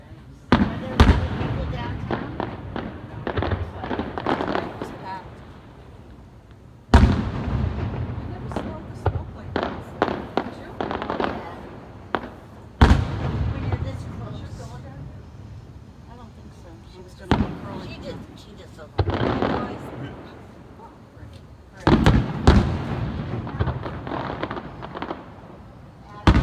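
Fireworks burst over Gulfport on July 5, 2018, with sharp booms every few seconds, each followed by crackling tails and echoing rumble, while people talk intermittently in the crowd.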